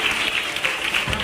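A church congregation at a fasting festival service bursts into dense applause, a short loud wash of clapping with no voice over it.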